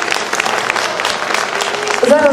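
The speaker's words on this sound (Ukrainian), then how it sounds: "оплески." Audience applause at a children's Christmas song concert in Ternopil, a steady patter of clapping from a hall crowd, with a voice briefly emerging near the end.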